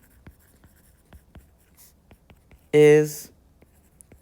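A pen writes a geometry angle statement, producing faint, light tapping strokes at irregular intervals, interrupted once by a brief spoken word.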